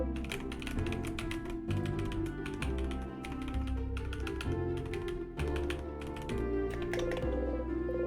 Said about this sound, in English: Can you hear my keyboard?